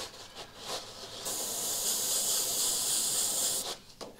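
Airbrush spraying a light dusting of blood splatter paint through a template, a steady quiet hiss of air and paint that starts after a few short puffs and runs continuously before cutting off.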